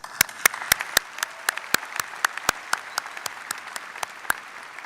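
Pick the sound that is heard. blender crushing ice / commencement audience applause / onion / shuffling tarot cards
commencement audience applause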